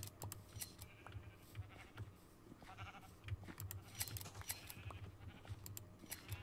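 Sheep bleat in Minecraft while being sheared, faint calls scattered over several seconds amid quick clicking keyboard taps and soft game noises.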